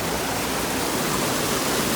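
Spoon Creek Falls in Washington State pours with a loud, close, continuous broadband roar of rushing water fed by snowmelt.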